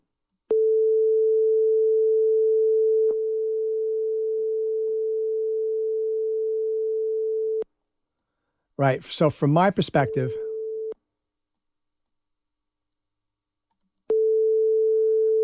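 A pair of steady pure tones, slightly out of phase and panned hard left and right, sustain evenly for several seconds, break off for a stretch of talking, then return unchanged.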